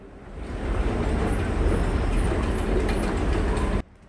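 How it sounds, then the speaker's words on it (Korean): A Seoul Line 7 subway train at Cheolsan station gives a steady, loud rumble that fills nearly four seconds and then cuts off abruptly near the end. "이곳은 지하철 7호선 철산역입니다."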